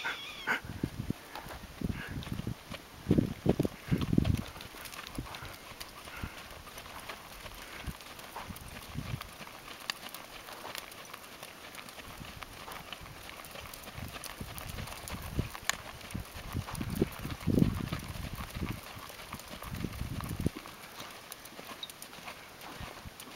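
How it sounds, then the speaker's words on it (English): A large group of horses with riders trotting past, their hoofbeats swelling in bursts and fading against a constant background hum. "Here comes a bazillion kids on horses."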